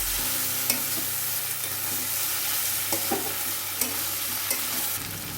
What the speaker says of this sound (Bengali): দিয়ে দেবো এখানে পরিমাণ মতো চিনি, আমি এটাকে ভালো করে কষিয়ে নেব